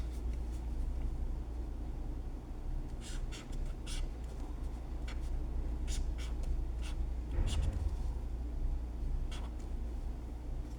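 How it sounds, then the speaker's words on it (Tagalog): A card prediction is handwritten: faint scratchy pen strokes come in short bursts over a steady low background hum. "Isulat ko muna yung prediction natin"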